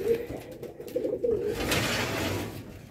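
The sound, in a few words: racing pigeons cooing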